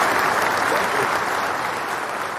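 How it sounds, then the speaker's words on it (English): A hand-clap applause sound effect plays on a live radio interview show, a dense, loud burst of many clapping hands that holds steady and fades slightly at the end, with no voices. "See, you getting all the damn hand claps."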